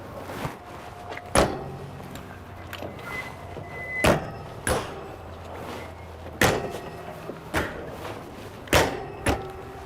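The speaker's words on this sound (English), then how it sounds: "We'll shut these, because then we want to show you all these manger doors on this trailer." Manger doors on a 2022 Cimarron Norstar 8-horse gooseneck trailer are swung shut one after another, several sharp metallic clanks and latches spaced a second or two apart, with quiet rustling between them.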